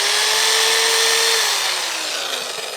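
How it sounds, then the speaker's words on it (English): Corded power drill running on a Vigorpool Captain 2400 portable battery station, a loud, steady high-pitched whine close by that slowly winds down in pitch toward the end, with no talk. "Now, power drill, that's going to work just fine."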